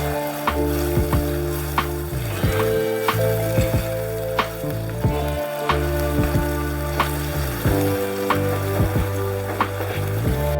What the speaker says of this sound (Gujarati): હવે ડુંગળી અને ટામેટાને આપણે સારી રીતે સાતળી લઈશું।